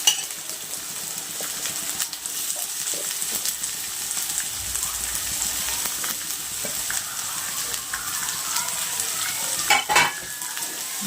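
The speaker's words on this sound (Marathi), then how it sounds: "एकदम गॅस मोठा ठेवूनच व्यवस्थित भाजायचा आहे." Coriander and capsicum stir-fried on a high gas flame, a steady close sizzle with scraping stirs and light clinks of a utensil against the pan, rising briefly near the end.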